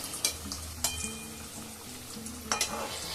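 Gaja pastries frying in oil on a low flame, a steady faint sizzle with a few sharp clinks of a spoon against the pan.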